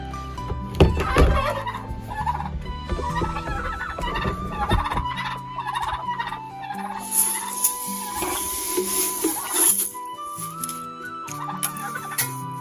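Farmyard fowl and ducklings gather to be fed, with loud gobbling, clucking and cheeping in a busy, overlapping chorus that continues throughout.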